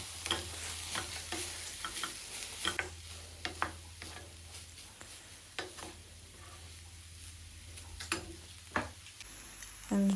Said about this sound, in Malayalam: കുറച്ച് ഹൈ ഫ്ലെയിമിൽ വെച്ചിട്ട് നന്നായിട്ട് മിക്സ് ചെയ്തെടുക്കുക